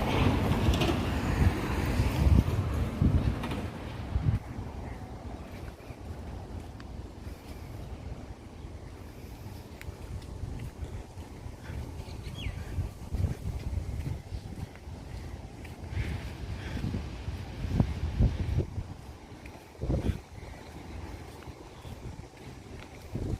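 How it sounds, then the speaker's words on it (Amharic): Strong wind blows in gusty surges, rumbling against the microphone with a low roar that rises and falls throughout, heard outdoors as rain seems about to arrive. "ንፋሱ ኃይለኛ አለ።"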